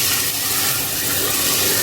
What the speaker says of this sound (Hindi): अब इसमें 1 कप पानी डाल दूंगी